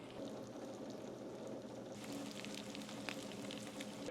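Corned beef hash with soft potatoes frying undisturbed in a hot pan, giving a steady, quiet sizzle throughout with no voices.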